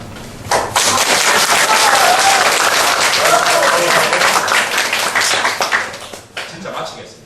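Loud, dense applause from a lecture audience at a special speech event, starting abruptly, holding strong for several seconds, then thinning into a few scattered claps at the end.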